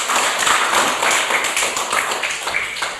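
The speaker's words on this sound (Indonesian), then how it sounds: "Tepuk tangan buat kita" Children in a classroom clap their hands in a dense, continuous round of close, bright claps lasting a few seconds, with little talk.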